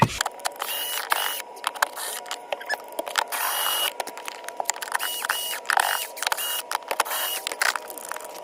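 A power tool with a 10mm bit backing screws out of a Ford Bronco's interior panel, bursts of close whirring and ratcheting clicks in quick, uneven runs.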